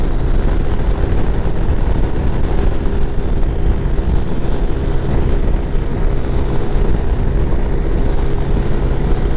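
Lifan KPX 250 dual-sport motorcycle cruising uphill at about 74 in sixth gear, a loud steady engine drone blended with heavy wind rush, continuous and unbroken with no talk.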